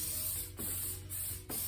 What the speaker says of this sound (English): Get your pan sprayed real good.